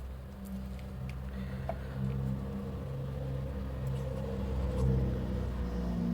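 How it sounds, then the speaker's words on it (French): Road traffic rumbles outside in a low, steady wash, with faint passing swells and small indoor clicks on top. There is no speech. "On aura un peu moins de bruit des voitures."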